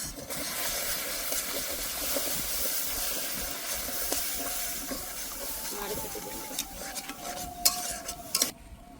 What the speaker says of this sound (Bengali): এবার দিয়ে দেব দুধ।